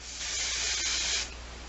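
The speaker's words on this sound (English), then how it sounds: "I go in with the hairspray." Aerosol hairspray sprays onto separated, teased hair in one loud continuous hiss of about a second, then tails off to a softer hiss.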